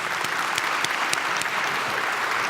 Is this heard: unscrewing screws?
no